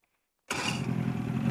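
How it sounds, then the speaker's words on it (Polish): A boat engine starts in the Farming Simulator 22 video game after a short silence, catching abruptly and settling into a steady, loud idle rumble. "Odpalamy silnik i płyniemy z powrotem e, do brzegu."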